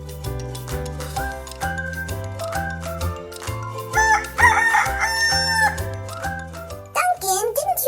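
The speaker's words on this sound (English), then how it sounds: "didn't you hear the rooster?" Bouncy cartoon-style music plays, then a rooster crows loudly near the end over the tune.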